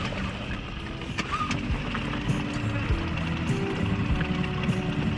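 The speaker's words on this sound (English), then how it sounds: "I get to take my my other boat out for our first little rip. We've got to be easy on the engine" A motorboat's new engine runs gently during break-in on its first ride, a close, steady low drone with water splashing and knocking sounds.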